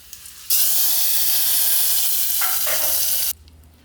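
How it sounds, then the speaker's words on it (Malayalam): Mustard seeds and dried red chilies hit hot coconut oil for tempering, giving a sudden loud hissing sizzle that holds steady for about three seconds, then cuts off abruptly. "ഇനി വെളിച്ചെണ്ണയിൽ കടുക്, അതുപോലെ വറ്റൽമുളക് ഇത് നമുക്ക്"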